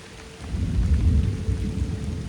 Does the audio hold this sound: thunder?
yes